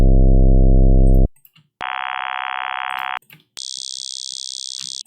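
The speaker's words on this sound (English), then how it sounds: "In this synth, I built a square wave across 3 different oscillators." Three synthesized square-wave tones, one square wave split across three oscillators, play in turn, first a buzzy low drone, then a brighter mid tone, then a thin high tone, with short gaps between them.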